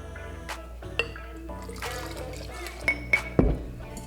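Pickle brine poured into a glass jar for quick instant pickles, giving a soft liquid trickle with a few clinks of glass and a louder splash near the end, in a quiet kitchen.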